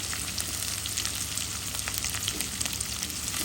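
Chopped onion and green chili frying in a little oil for a bitter gourd and potato dish with small fish, a close, continuous crackling sizzle heard alone.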